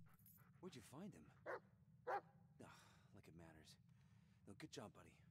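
A dog barks in the Blair Witch video game, several short yips and bow-wows spaced irregularly over a low steady hum, with people chatting quietly in between.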